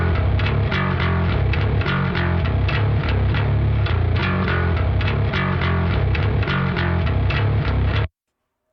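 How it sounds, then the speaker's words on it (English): Heavily distorted bass guitar shaped with EQ and compression in a grindcore mix, playing a steady, dense, gnarly riff with rhythmic attacks for about eight seconds before stopping abruptly; loud and close, with no voices. "with that process on, the bass sounds like this"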